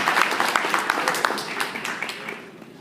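Brief applause from a conference panel audience at a DJ industry gathering, a scattered burst of claps that thins out and fades over a few seconds.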